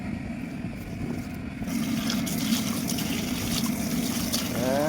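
Water trickles and gushes steadily out through three drilled holes, with the flow getting louder partway through. The sound is fairly quiet and continuous, with faint background noise.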